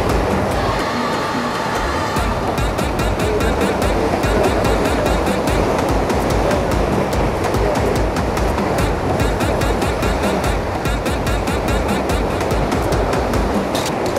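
Large ocean waves crash and churn against a rough rocky shore in Nagasaki, a loud, unbroken roar of surf and wash that fills the whole stretch without letup.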